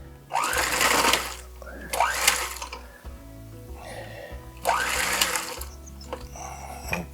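An electric mixer whips the mashed potato topping for a shepherd's pie in several loud whirring bursts separated by short pauses, with quieter kitchen clatter in between.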